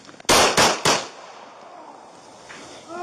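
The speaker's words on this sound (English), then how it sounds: "pulls his pistol back out of the holster, and fires a few shots" A police officer fires a pistol, three sharp, loud shots in quick succession, followed by a lingering echo, with faint background noise after.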